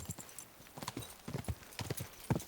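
Horse hooves clip-clop at a quick, uneven gallop in the medieval video game Kingdom Come: Deliverance II, close and clear, with a brief whinny.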